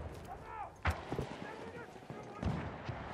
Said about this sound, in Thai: ได้ยินเสียงปืนอยู่นะที่ยิงกันตรงนี้